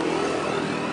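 A motorcycle engine runs steadily and loudly close by for a moment, a continuous mid-pitched drone with no break or talk.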